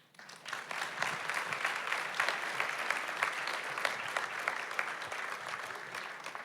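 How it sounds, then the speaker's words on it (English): An audience at the StoryFest 2024 keynote conversation breaks into sustained, dense applause. It rises quickly from quiet and holds steady for several seconds before easing slightly. "Can we have another round of applause, please?"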